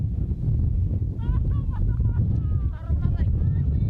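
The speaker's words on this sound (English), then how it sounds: "A very strong wind" Strong wind blowing across a rugby field during an under-16 match between Marist and Nasinu, a steady roaring rush of buffeting noise with faint whistle-like tones and a voice partly audible underneath.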